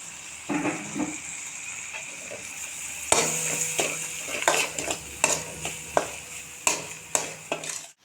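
Green chillies and capsicum sautéing in a hot pan, with a steady sizzle under repeated scraping and tapping of a spoon against the pan that grows busier partway through.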